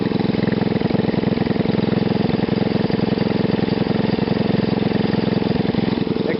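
A GEET reactor engine idling loud and close, a steady mid-pitched running drone with rapid regular pulsing throughout and no talk.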